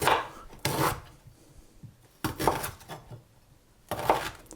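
A knife cutting through unpeeled ginger root, three or four crisp rasping chops spaced a second or two apart, close and fairly quiet, with no talk.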